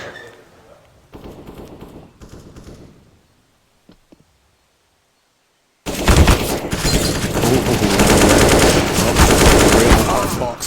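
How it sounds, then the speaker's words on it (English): Counter-Strike: Global Offensive gunfire at a pro match, with sparse shots and short bursts first, a brief lull, then loud continuous automatic fire that packs the second half. "he's getting bullets thrown at him"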